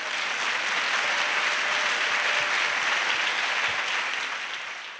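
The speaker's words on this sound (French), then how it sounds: "Let us clap for Jesus" A church congregation applauds in a dense, sustained burst of clapping that stays steady and loud before easing slightly at the end, with no voice over it.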